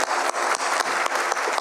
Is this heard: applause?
yes